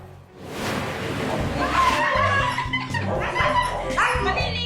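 A husky yips, whines and barks in short, dramatic bursts while being bathed in Santo Tomas, Batangas, loud and close, with a voice speaking alongside it.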